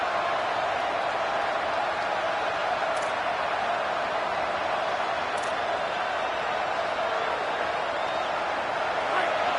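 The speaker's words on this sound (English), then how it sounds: "These fans are going absolutely nuts." A stadium crowd in a college football video game between Miami and Texas cheers, a constant wall of roaring noise that holds at an even, loud level the whole time.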